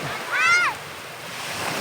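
Waves rush steadily onto a beach at San Andres, Quezon province, with a brief high, warbling voice-like sound rising over the surf.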